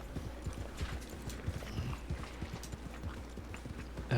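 A steady run of close hoofbeats clip-clops from a horse in the WildRP game, the even rhythmic strikes carrying on alone at a moderate level.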